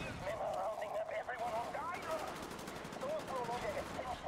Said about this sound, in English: I hear shooting, but I don't see...